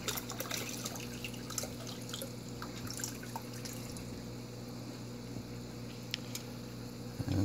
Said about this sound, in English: we're going to go ahead and pour some minnows and even a couple little baby sunfish in there right now